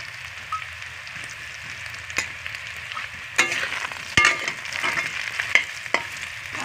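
Potatoes with spices, dried red chilies and green chilies fry in hot oil, a continuous close sizzle punctuated by sharp scraping stirs and pops, with no voices.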